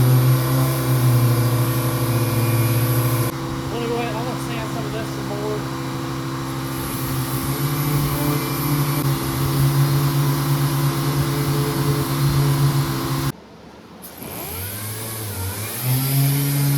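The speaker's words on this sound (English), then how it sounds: "I'm gonna sand some of this some more." A power sander works steadily over the metal body of a van, giving a loud, continuous motor whine that dips in pitch partway through. It cuts out briefly and then restarts, with a voice speaking over it at times.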